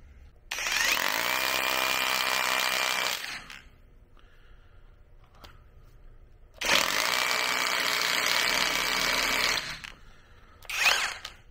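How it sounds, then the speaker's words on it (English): A Neiko cordless rotary hammer bores a 1/2 inch hole into a shed floor in two loud bursts of about three seconds each, followed by a brief final burst, with quiet pauses between. "And now let's do a drilling sample."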